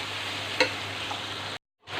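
Spices with crushed cumin and tomatoes cooking over a low flame for a village-style bottle gourd daal, a steady soft sizzle with one brief scrape of stirring before a short drop to silence.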